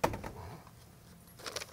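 A Mesker steel door fitted with vertical rod panic hardware is pulled closed: a sharp clack at the start, a quiet pause, then a faint metallic rattle and click near the end.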